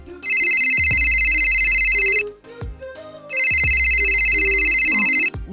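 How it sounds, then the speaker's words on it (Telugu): A mobile phone rings with an incoming call: two loud, close bursts of a bright electronic ringtone, each about two seconds long, with a short gap between them and nothing else heard. "గణేష్ ఫోన్ చేస్తున్నాడు, ఇప్పుడే వస్తాను."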